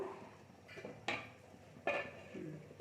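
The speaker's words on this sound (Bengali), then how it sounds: "এই যে নাড়া দিয়ে আবার ঢেকে দিলাম" Curry being stirred in a cooking pot, then a lid set over it: two sharp metallic clanks stand out against softer scraping and rustling, close and fairly quiet, with no talking.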